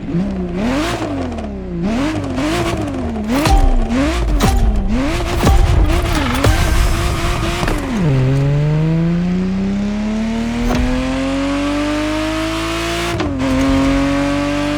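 Ferrari Testarossa engine in the racing game The Crew Motorfest, revving up and down through rapid gear changes, then holding a long steady rising drone as the car accelerates, loud and close with a brief tire squeal.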